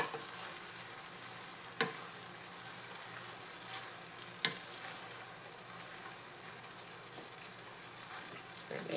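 Rice noodles (pansit) being tossed in a pan with pork, vegetables and green onion: a steady faint sizzle runs throughout, broken by two sharp utensil clinks. No one speaks.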